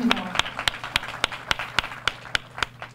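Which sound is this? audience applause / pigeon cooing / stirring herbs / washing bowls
audience applause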